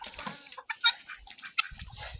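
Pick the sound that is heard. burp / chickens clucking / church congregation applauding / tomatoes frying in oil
chickens clucking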